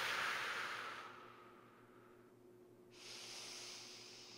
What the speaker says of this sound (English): Expel all the breath out